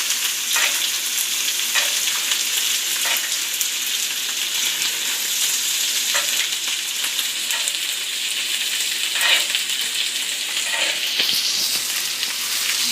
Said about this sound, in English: keep basting it with the butter and oil mixture and the garlic.